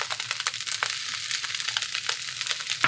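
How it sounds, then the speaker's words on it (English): Shrimp, sausage and shiitake mushrooms sizzle and crackle steadily in a hot pan, with scraping stir strokes at intervals, close and alone. "Now after stir frying for 5 minutes"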